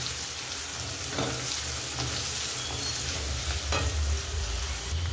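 Chopped onion frying in oil in a pan for a potato and green pea chutney, a steady close sizzle with light stirring scrapes, no talking.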